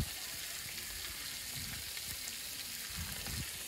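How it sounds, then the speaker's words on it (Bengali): Spice paste of ground chilli, cinnamon and cardamom sizzles and fries in a pan for papaya and egg curry, a steady close hiss with scraping stirring strokes recurring throughout. "মরিচ বেটে দিয়েছি, দারচিনি এলাচ বেটে দিয়েছি, দিয়ে এখন কষাচ্ছি"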